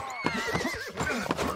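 A horse neighs and whinnies in the video game Rustler, a loud close call with hoof clip-clops, heard alone.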